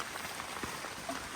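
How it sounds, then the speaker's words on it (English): Heavy rain pouring down in Alaska, a steady dense hiss of drops hitting surfaces, faint and continuous over a short stretch with no other sounds standing out. "And it's pouring rain."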